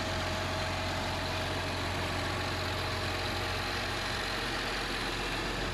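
A New Holland T8 Tier 4 tractor engine idling: a steady, loud, continuous low rumble with a broad mechanical hiss and no changes in pitch or rhythm, heard close up and without talk.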